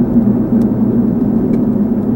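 A car running an R154 manual transmission hums with a steady, loud engine drone that holds constant without any clear shift breaks.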